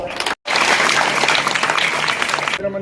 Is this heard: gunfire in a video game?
no